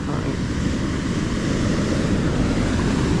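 Big ocean waves breaking on a New Zealand shore, a steady loud roar of surf mixed with wind buffeting the microphone, continuous with no break.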